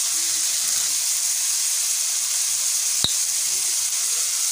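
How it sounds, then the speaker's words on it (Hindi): Soy sauce goes into a pan of sizzling vegetables, a steady, close hiss of frying that holds evenly throughout, with one brief sharp click partway through. "अब इसमें 1 टेबलस्पून हम ऐड करेंगे सोया सॉस"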